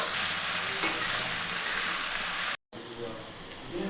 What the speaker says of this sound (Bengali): পেঁয়াজটাকে কিছুটা ফ্রাই হওয়ার জন্য দিয়ে দিলাম।